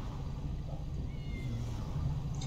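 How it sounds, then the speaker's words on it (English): A cat meows faintly nearby, close to a parked car in a red curb zone on a street, under steady low engine and traffic rumble with no talking. "Do I hear a cat?"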